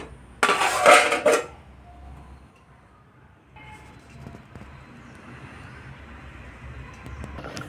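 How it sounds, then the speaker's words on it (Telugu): A lid is set onto a cooking pot of dal with raw mango and bottle gourd, giving one loud, close metallic clatter near the start, followed by a low, steady background hiss. "ఇప్పుడైతే నేను మూత పెట్టుకుని ఉడికించుకుంటాను"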